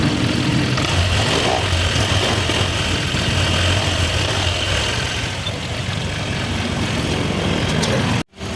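A Honda Click 125i FI scooter with a check-engine light and near-overheating runs at a steady idle close by, a continuous low engine hum throughout that cuts off abruptly at the end.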